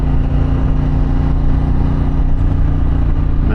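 A Harley-Davidson Pan America motorcycle fitted with a Vance exhaust rumbles steadily and loudly up close while cruising around Pine Island, its deep low engine drone continuous throughout with no voices.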